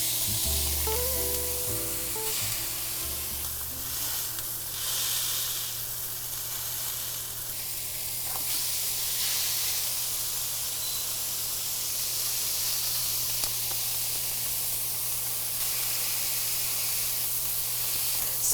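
A beef patty sizzles and hisses steadily on a hot, lightly smoking griddle, a continuous close frying spray with a low steady hum underneath and no talking.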